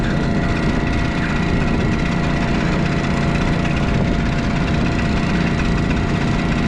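A truck engine idles in -20C cold while warming up, giving a steady, continuous low rumble close by with no breaks and no talking.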